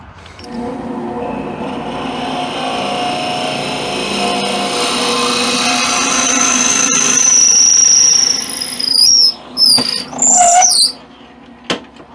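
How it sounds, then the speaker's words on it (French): A lathe spins a wooden pen blank held in its chuck while a drill bit bores through it, a rising steady whir with high squeals near the end and short bursts as the tool stops and starts. "c'est vraiment extrêmement rapide de percer avec le mandrin comme ça"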